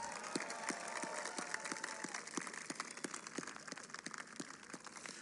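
Outdoor crowd applause at the National Menorah lighting in Washington, D.C., a faint, steady wash of distant clapping with scattered sharper taps running throughout, no voices.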